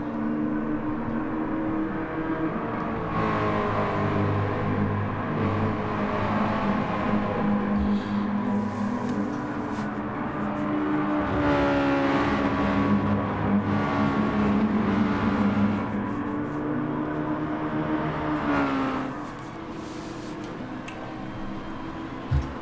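Mazda MX-5 race cars in the SLM MX5 Cup championship at Lago Maggiore hold a steady engine drone on track, with passing whirs and revving swells, continuous and fairly loud with no talk.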